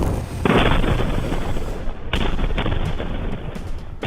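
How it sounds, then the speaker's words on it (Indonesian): A rapid series of heavy, broadband blasts rolls on continuously, with sharp onsets standing out amid a dense roar of booms. "Serangkaian ledakan terdengar di kawasan Al-Deir, Provinsi Basra"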